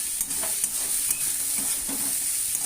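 Bottle gourd peel fries with salt and turmeric in a pan, giving a steady, close sizzle broken by a few soft scrapes of stirring, with no voices.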